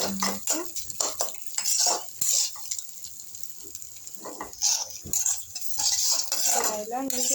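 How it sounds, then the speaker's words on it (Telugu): Two eggs frying in a pan while a utensil stirs and scrapes them, making close, steady clinks and scraping over a soft sizzle, with no talking. "సో ఇవన్నీ వేసుకుని నీట్గా ఫ్రై చేసుకున్నాము"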